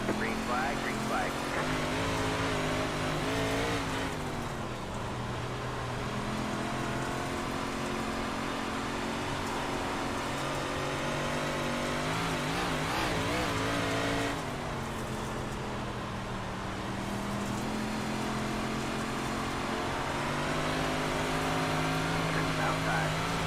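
CORE Super Late Model dirt series race cars roar around a dirt track at the green flag, a sustained loud engine drone that swells and fades as cars pass, with voices talking over it.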